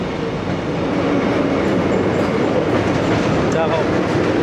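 The Santragachi–Digha train rumbles steadily over the Kolaghat rail bridge, a dense, loud roar of wheels on steel with faint clatter throughout and no break in the noise.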